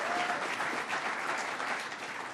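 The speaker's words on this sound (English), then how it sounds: "Let's give a round of applause" An audience at a government announcement in New York gives a steady round of applause for officials, dense clapping filling the room without letting up.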